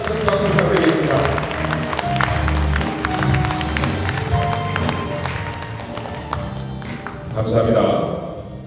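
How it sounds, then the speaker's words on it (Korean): An audience at a lecture gives scattered applause and light clapping, moderately loud, while a host keeps talking over it. "응원의 박수, 큰 박수 부탁드리겠습니다."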